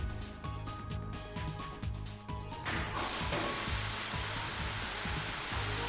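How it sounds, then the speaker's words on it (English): A Volvo machine's fire suppression sprinkler system bursts into a loud, steady hissing spray of wet chemical liquid, cutting in abruptly over an idling engine drone and holding constant to the end. "By pushing this button, the sprinkler system starts spraying immediately"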